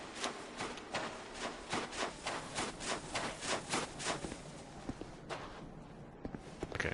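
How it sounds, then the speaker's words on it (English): An enemy's footsteps in Dark Souls 2 sound as a steady run of heavy, evenly spaced thuds, about a dozen in quick rhythm, then fading to a few scattered steps. "Okay, so I guess that was his footstep."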